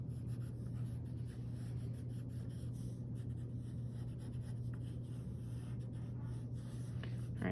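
Pencil scratches and strokes on paper during a gesture drawing demo, faint and continuous over a low background hum, with no speech.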